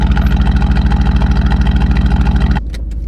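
A 2019 Aston Martin Vantage with a new straight-piped exhaust and tune rumbles loudly up close at a pulsing idle, then drops abruptly to a quieter, smoother burble.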